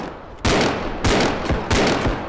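Gunfire in the realistic shooter game Bodycam, three loud, booming shots roughly half a second apart, each with a long echoing tail, close and dominant.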